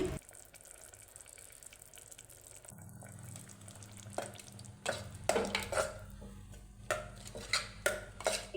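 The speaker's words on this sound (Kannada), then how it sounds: "ಇದಕ್ಕೆ ಅರ್ಧ ಕಪ್ನಷ್ಟು ಮೊಸರನ್ನ ಹಾಕ್ಕೊಂಡು ಒಂದು ಸಲ ಮಿಕ್ಸ್ ಮಾಡ್ಕೊಳ್ತಾ ಇದ್ದೀನಿ" Ground masala is stirred with half a cup of yogurt in a pan on low flame, giving scattered spoon scrapes and clinks against the pan that grow louder and more frequent toward the end, with no talking.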